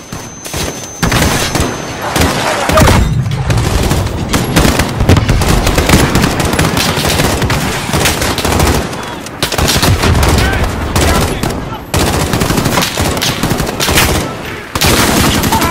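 Dense gunfire in Call of Duty: Modern Warfare, loud sustained bursts of automatic weapons and a rattling fusillade with brief pauses, running nearly nonstop, with scattered talk mixed in.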